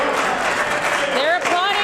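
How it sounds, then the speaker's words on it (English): Applause fills a legislative chamber, a steady wash of clapping with voices rising over it toward the end. "They're applauding."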